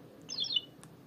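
A short electronic bird chirp from the Mickey's World mobile game on a Nokia 2760 phone: a quick descending trill followed by a brief single tweet, faint over a low background hum.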